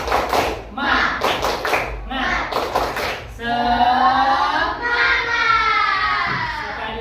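A morning class does a rhythmic spirit clap, producing a few bursts of patterned hand claps with chanted voices, followed by a teacher speaking.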